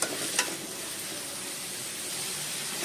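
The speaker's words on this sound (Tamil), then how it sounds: "ஆனியன் கொஞ்சம் நல்லா வதங்கி வரட்டும்." Chopped onions sizzle and fry in hot oil in a pan while prawn thokku is cooked, a steady close hiss with a brief stir-like clatter near the start and no talking.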